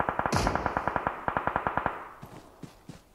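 Gunfire in PUBG Mobile, an AWM sniper rifle among the shots: a rapid run of sharp evenly spaced cracks with echo, then fainter distant shots trailing off.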